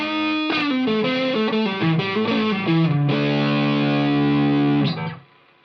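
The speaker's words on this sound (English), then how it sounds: "you can get some really fat tones just even with your you know, quote unquote clean amp, just by putting a pedal in front of it" Electric guitar with a P90 neck pickup on a Telecaster, run through a distortion pedal into a clean amp: a fat, gritty melodic riff ending on a long sustained chord that cuts off, played alone.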